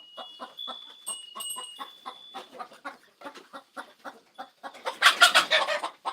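Laying hens cluck in quick repeated bursts close by, with a brief louder squawking flurry near the end.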